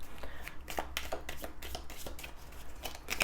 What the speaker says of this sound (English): I will take this much and shuffle it over my hands.